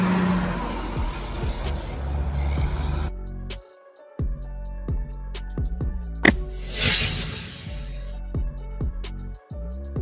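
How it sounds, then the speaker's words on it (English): A tanker truck built to haul liquid or gas in a large cylindrical tank runs its diesel engine with a tonal hum and clanks, then lets out a loud burst of air-brake hiss midway before the engine settles again. "Tank truck."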